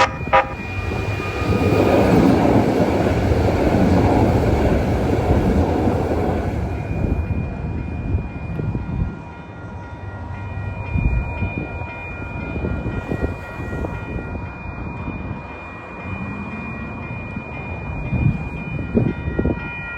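A train passes through a station with a loud, steady rumble and rail noise that fades, followed by quieter clattering and a drawn-out tonal whine.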